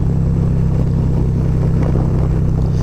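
A 2023 Harley-Davidson Road Glide ST motorcycle fitted with a 131 big-bore kit roars steadily up close while riding hard in first gear, a loud continuous low engine rumble with no speech.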